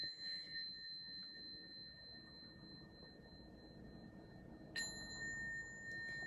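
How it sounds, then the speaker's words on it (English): A meditation bell is struck once during a quiet dharma session, giving a clear ringing tone that sustains and slowly fades over a soft background hum, with no talking. "I'm going to ring the bell and let the thoughts settle down."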